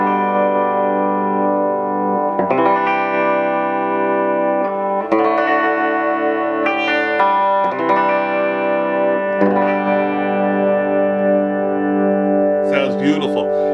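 Clean electric guitar chords ring out through a Steve Vai Legacy Drive tube pedal on its clean channel, strummed in several sustained phrases with slight reverb, loud and close, no talking.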